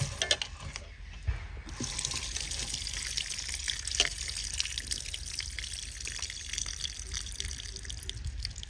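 A running faucet trickles and drips as raw chicken is washed in a home kitchen, a steady, fairly quiet watery hiss with small splashes, close and continuous without talk.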